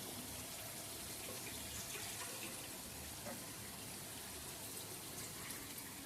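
Water pours steadily into chicken biryani masala cooking in a pot, a faint continuous splashing gush that runs unbroken throughout.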